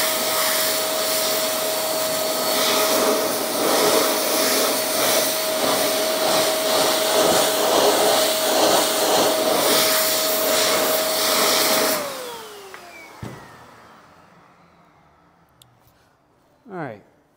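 A powerful air blower roars steadily while drying a car wheel and tire freshly treated with Turtle Wax acrylic tire coating, then winds down and stops, leaving a few faint clicks.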